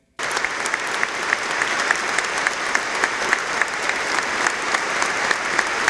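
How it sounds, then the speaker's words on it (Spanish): Sustained loud applause from a large congregation inside a basilica during a funeral mass, dense steady clapping that starts abruptly and continues throughout without voices on top. "Sonoros aplausos,"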